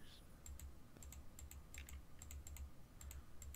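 Rapid clicking while fixing the lights in the video game Among Us, sharp clicks landing in quick irregular bursts and clusters, close and fairly quiet, with no talking.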